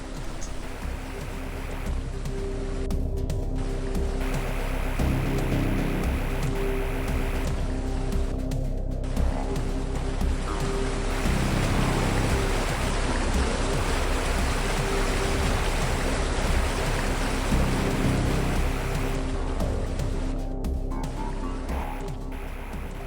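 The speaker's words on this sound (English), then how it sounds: "See this waterfall? We can't go up into it, but super cool little waterfalls." Steady rushing water from a small waterfall in the AM2R video game, a broad continuous wash of noise with a low ambient hum holding evenly throughout.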